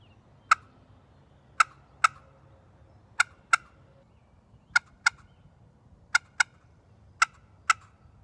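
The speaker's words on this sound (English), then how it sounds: "So the cut sounds like this." A slate turkey call popped downward to make a cut: about eleven crisp, sharp clucks spaced irregularly, each isolated and clear against near silence, close and fairly quiet, with no voices.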